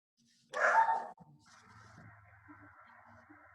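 A single short dog bark rings out, followed by a faint low whimper and quiet background sounds.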